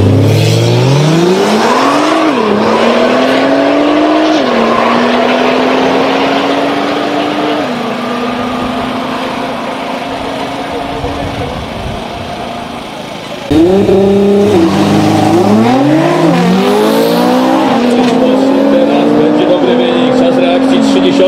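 A 3.8-litre Nissan GT-R launches on a quarter-mile drag run, its engine rising in pitch through repeated gear changes with short dips between shifts, then a louder second burst near the end, with voices talking faintly beneath.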